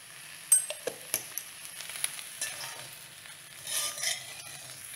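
Taro curry ingredients sauté in a pan, a faint hiss under a series of spatula clinks and scrapes that come sparse at first, then a softer stirring swell toward the end.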